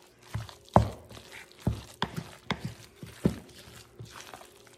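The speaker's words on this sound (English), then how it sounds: "I'm just gonna stir this up." Spoon stirring a chicken, cheese and green onion mixture in a bowl, giving a handful of soft, irregular scrapes and wet thumps close by, with no talk.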